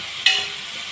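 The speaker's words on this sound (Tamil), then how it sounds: "அப்புறமா அதை ஃப்ரை பண்ணிப்பேன்" Food fries in a pan with a steady hiss and a brief sharper burst of sizzle near the start, close and fairly loud, no voices.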